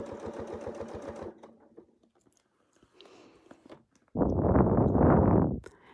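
A domestic sewing machine stitches a continuous quilting motif in short bursts: a quick rhythmic stitching run, a quieter pause with small handling noises, then a louder, denser burst of rapid stitches close to the microphone.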